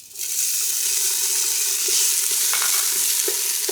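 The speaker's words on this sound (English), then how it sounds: "Now I'm going to add my onions." Onions hit a hot pot and sizzle, a steady bright frying hiss that holds at close range with a few soft stirring knocks and no talk.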